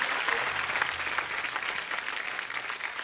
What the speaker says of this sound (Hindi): एक बार जोरदार तालियां हो जाए हमारे तमाम कलाकारों के लिए